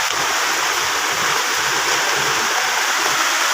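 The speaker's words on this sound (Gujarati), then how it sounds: "જો કેવો રેડો આવ્યો પલરીએ છે" Heavy monsoon rain pours down outdoors while rotlas are cooked under an umbrella, making a loud, dense, unbroken hiss that fills the whole stretch.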